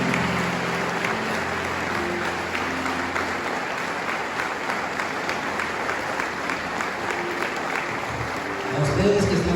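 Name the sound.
congregation applause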